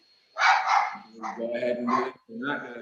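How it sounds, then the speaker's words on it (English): A dog barks a few times close to a microphone during an online city council meeting, sharp yips breaking through while a person speaks over it. "Yes, that's my dog."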